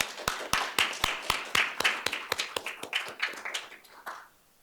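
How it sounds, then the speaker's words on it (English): Clapping for panelists at a keynote session, sounding like just one or a few people, with sharp, evenly spaced claps in a quick rhythm that loosen and fade out after about four seconds. "So please give our panelists another round of applause"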